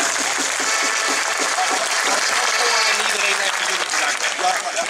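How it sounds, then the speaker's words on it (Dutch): Audience applause at a shanty and sea-song choir event in Emmen, steady dense clapping throughout, loud and close, with crowd noise beneath. "Geef hem een hartelijk applaus."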